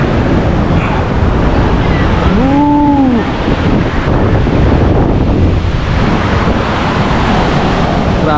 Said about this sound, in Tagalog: Grabe, ang lakas ng hampas ng tubig oh. Ang dagat.